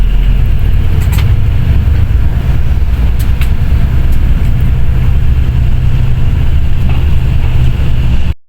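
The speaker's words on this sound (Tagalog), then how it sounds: "Traffic. Traffic." Manila city traffic rumbles loud and close, a constant low droning of engines and road noise with gusts of wind buffeting the microphone, with no voices.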